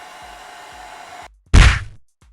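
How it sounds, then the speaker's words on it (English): A hair dryer blasts heat shrink tubing on a custom stereo wiring harness for a Hyundai Genesis Coupe, a steady whirring hiss running about a second before cutting off, followed by a brief loud thump and rush. "Just heat right over the heat shrink and it'll shrink it right down."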